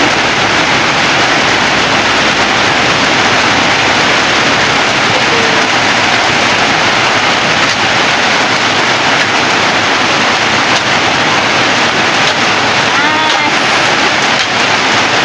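Heavy rain pours steadily and loudly throughout, a dense continuous hiss with no pauses.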